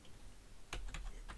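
Code being typed on a computer keyboard: a few quick, close key clicks in a short burst after a quiet moment.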